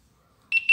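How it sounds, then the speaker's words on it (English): Two short, high electronic beeps sound close by after a moment of silence. "It's beeping. Maybe it needs charge."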